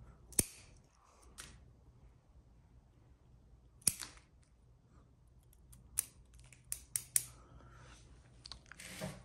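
Bonsai shears trimming a Japanese quince in early spring, giving sharp, close snips scattered irregularly, a lone cut, then a few spaced clips and a quick cluster of several, over a quiet background.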